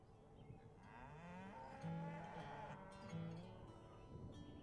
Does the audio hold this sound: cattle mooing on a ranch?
yes